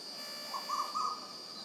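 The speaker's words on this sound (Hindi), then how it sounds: "मुझे तो बहुत पक्षियों की आवाज़ पसंद है, रंग बिरंगे पक्षी।" Birds call briefly and faintly outdoors near green fields in the rainy season, a few soft chirping notes over a steady background hum of insects.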